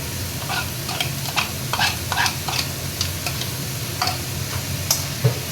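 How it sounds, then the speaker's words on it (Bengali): Chopped green chilli, onion, tomato, ginger and garlic frying on high flame, a steady close sizzle broken by frequent quick ticking clinks of a spatula stirring against the pan. "এটা 1 মিনিট ভাজবো, হাই ফ্লেমেই আছে, হাই ফ্লেমে 1 মিনিট ভাজবো।"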